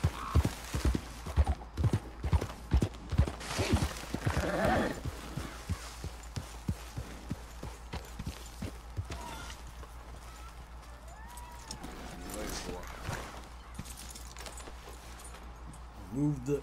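Rhythmic clip-clop of horse hooves from riding in Red Dead Redemption 2, steady beats that ease off midway then return faintly, with a horse snort and occasional speech.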